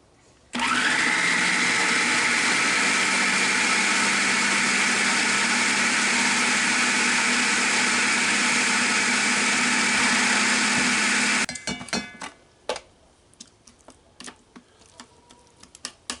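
A kitchen blender whirs at high speed, pureeing chiles for New Mexican posole in one loud, steady drone of about eleven seconds before cutting off, followed by scattered clicks and handling noises.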